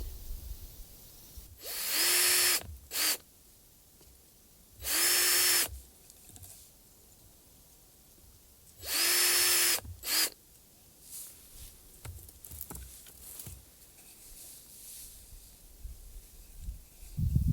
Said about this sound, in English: I'm going to drill that side